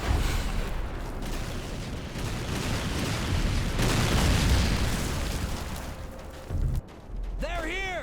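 Gunfire and explosive booms from a secondary weapon fired at enemies in a trench-warfare video game, dense and continuous for most of the stretch, with a sharp burst near the end.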